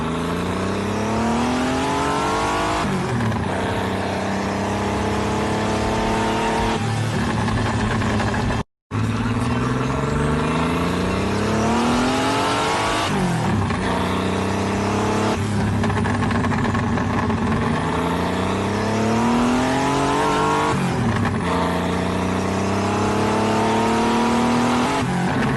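A car fitted with a fresh set of outlaw-style wheels revs hard as it pulls away, its engine note climbing in repeated loud, close sweeps as it accelerates through the gears, with one brief dropout.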